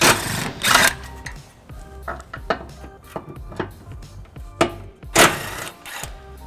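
A 14mm socket wrench removes tow hook bolts on a 1999 Lexus RX300, making close, loud bursts of rapid ratcheting clicks separated by short pauses, with no talking.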